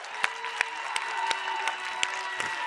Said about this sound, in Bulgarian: Да чуем вашите силни аплодисменти за Кичка Бодурова!